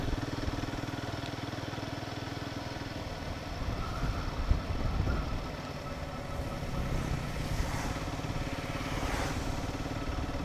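A Himalayan 450 motorcycle riding through misty monsoon hills in Tamhini Ghat, its engine a steady, continuous drone with wind rush throughout, no talking.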